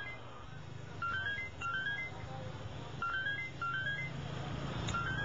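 A mobile phone rings with a quiet, repeating melodic ringtone, short bright tone phrases cycling about every second and a half over a low room hum.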